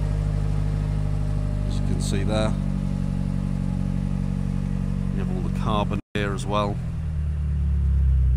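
A BMW M8 Competition Convertible engine idles with a steady low rumble throughout while someone talks over it.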